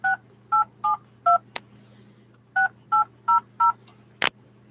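Telephone keypad dialing: eight crisp DTMF tone beeps in two quick groups of four, close and clear over a steady low hum, broken by a short burst of noise and a couple of sharp clicks, with no voices.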